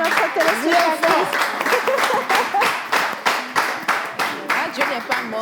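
A small studio audience on a French Christian broadcast claps in a rhythmic, pulsing beat, steady claps repeating close and loud with a few voices faintly audible underneath.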